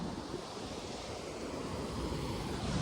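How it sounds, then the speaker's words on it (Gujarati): Steady broadband rush of water from a full lake, continuous and fairly loud, with a roaring surf-like quality and some wind buffeting on the microphone. "અવાજ બહુ આવે છે પાણીનો"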